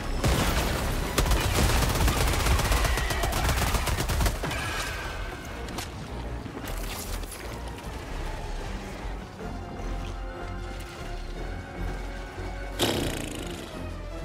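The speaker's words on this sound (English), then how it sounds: "Throwing grenade." Grenade blast and gunfire in Helldivers 2 while assaulting a bug outpost: a loud, dense burst of shots and explosive crashes for about four seconds, then quieter scattered firing and debris, with another sharp impact near the end.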